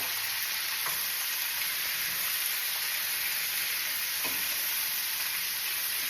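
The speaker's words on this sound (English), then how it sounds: "we're going to start stirring it in and coating all of that cabbage with the pepperoni oil" Cabbage being stirred in pepperoni oil in a hot pan, a steady loud sizzle and hiss throughout, with a couple of faint spoon scrapes and no voices.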